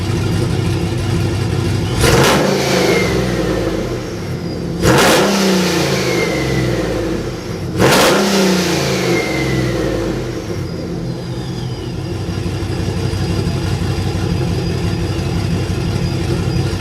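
A Ram pickup truck engine with an open SPELAB electric exhaust cutout revs three times in sharp, loud bursts over a steady rumbling idle, with no talking.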